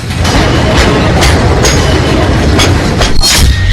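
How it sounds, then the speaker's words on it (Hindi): A freight train rolls over repaired track at a crash site, a loud close rumble with rhythmic wheel clatter and metallic clanks running unbroken throughout. "हादसे वाली जगह से सबसे पहले मालगाड़ी गुजरी है।"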